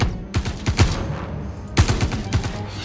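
Gunfire in Star Citizen during a Vanduul boarding party on a ship: two close clusters of rapid, loud shots, each a quick run of sharp bangs with brief gaps between.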